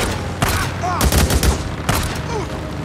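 Gunfire from a machine gun in the video game Days Gone, several bursts of sharp broadband cracks, the strongest run near the middle, over steady game ambience with faint background noise.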